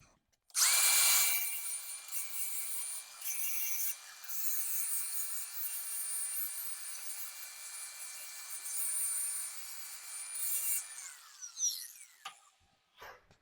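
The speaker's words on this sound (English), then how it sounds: "we're going to go ahead and grind the edge down clean, and then also the surface of this" Grinder cleaning the edge and surface of a metal frame saver on an E-Series van, a high, bright whine held for about ten seconds with small load changes, then spinning down and a few scrapes.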